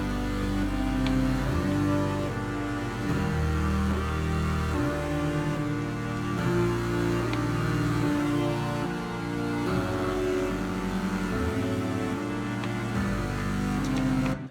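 Layered synthesizer parts from a song, played on a Doepfer and a Prophet, forming a dense, sustained chordal pad with rhythmic pulsing movement that plays steadily throughout without any voices.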